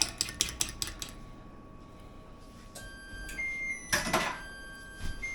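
A fork beating a mixture in a bowl for partridgeberry pie, a quick run of sharp clinks against the bowl, then a pause with faint beeps and another clattering burst, all close and fairly quiet.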